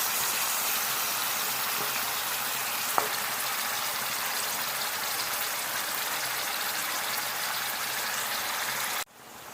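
Ghanaian garden egg stew simmering and sizzling in a pot, a dense steady hiss of bubbling and frying that runs evenly, with one small clink partway through, before cutting out abruptly near the end.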